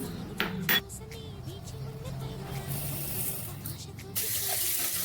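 Rice and moong dal for pongal are rinsed under a running tap in a sink, a steady close rush of water that swells louder near the end.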